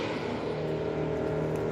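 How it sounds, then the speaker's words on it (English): A loud car passes close by on a street, its steady engine and road roar filling the moment with no voices over it. "a lot of loud cars around here."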